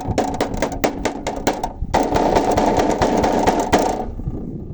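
Gong Feng 404 tractor running with its fender resonating, giving a steady, close mechanical drone with rapid rattling pulses that start and stop, then continue unbroken before fading out.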